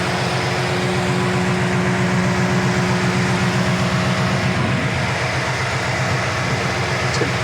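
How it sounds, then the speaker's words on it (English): A low-mileage 1993 Pontiac Trans Am's engine runs at a steady idle, a loud, continuous low rumble with an even pulsing throb that holds throughout, with no talking over it. "Engine sounds great."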